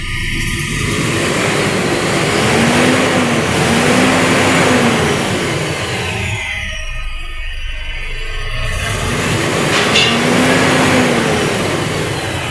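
A heavy Isuzu 6WG1 truck engine roars steadily and loudly, rising and falling in pitch as it revs after a low-power repair, with a harsher burst partway through; no voices.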